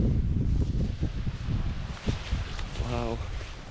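Steady wind roars and buffets the microphone, with rustling and a faint voice-like murmur underneath.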